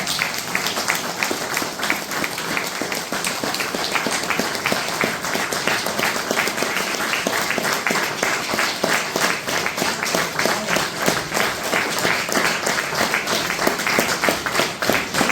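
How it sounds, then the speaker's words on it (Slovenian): Sustained, even applause from a concert audience at a hunters' choir anniversary concert, dense clapping that carries on for the whole stretch without talk. "si zaslužita še en krepek in spodbuden aplavz"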